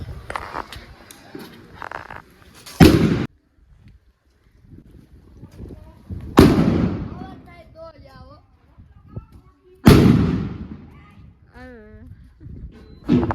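Sutli bomb firecrackers bursting for New Year celebrations, three sharp, loud blasts spaced several seconds apart, each followed by crackling decay, while people talk and shout in between.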